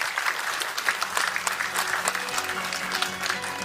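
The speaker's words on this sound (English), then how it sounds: "let's give the President a round of applause" Audience applause for the President at a capsule laying ceremony for the Mactan World Expo Convention, a loud, dense, steady round of clapping filling the hall throughout.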